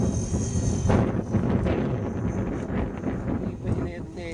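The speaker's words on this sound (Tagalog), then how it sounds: "Ayun, lakas ng hangin oh." Strong wind buffets the microphone in rough gusts while people talk close by in Filipino during a DF60 drone flight.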